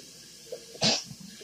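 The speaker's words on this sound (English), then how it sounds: "was sneezing from the black pepper" A single sharp sneeze from black pepper bursts out midway while cooking turkey soup, loud and close, with faint rustling and small sounds before and after.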